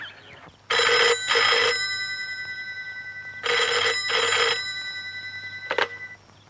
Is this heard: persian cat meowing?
no